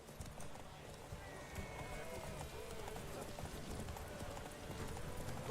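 Horse hooves galloping in The Witcher 3, a quick, steady clip-clop that sits fairly quietly beneath game ambience and a talking voice.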